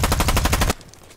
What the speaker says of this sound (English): Suppressed M4.